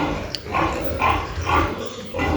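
Piglets on a Ukrainian farmyard grunting in short repeated bursts, about four snorty grunts spaced roughly half a second apart, close and moderately loud over a low rumbling background.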